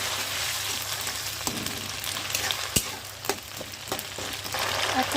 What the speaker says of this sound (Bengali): পেঁয়াজ বাটা, আদা রসুনের সাথে পেঁয়াজ বাটাটা একটু কষিয়ে নিচ্ছি।